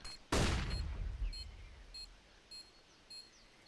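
Gunfire in a competitive college esports first-person shooter match: one loud, sharp shot with a long low decay, followed by faint repeating electronic beeps, with no talk over it.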